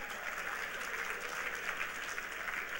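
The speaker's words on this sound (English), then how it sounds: "Let's give them a round of applause" Room-wide applause for a group of young future leaders at a gathering: a soft, continuous wash of many hands clapping at some distance, steady throughout the brief moment.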